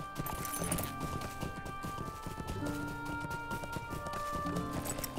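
Horse hooves clip-clop steadily in the Lord of the Rings Online video game, a continuous near rhythm of hoofbeats over a busy in-game backdrop of music and ambience.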